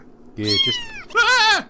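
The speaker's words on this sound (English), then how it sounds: "That's just a cat." A pet cat gives two close meows, a short low one followed by a longer, higher, drawn-out cry, with a brief voice between them.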